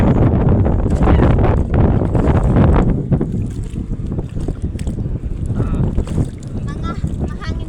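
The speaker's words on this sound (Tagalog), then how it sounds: "Mga mahangin dito mga kapatag." Strong wind gusts outdoors buffet the microphone with loud, steady roaring noise that eases partway through. Voices talk over it.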